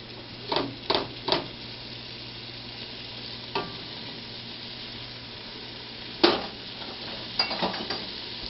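Ground meat for chili cooking in a pot, a low steady sizzle and bubbling with a few scattered clinks and stirring scrapes of a utensil against the pot, no talking.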